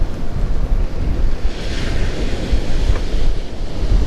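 Blustery wind and choppy sea surf on the coast at Hornsea roll together in a steady, loud wash, with gusts rumbling across the microphone and no one speaking.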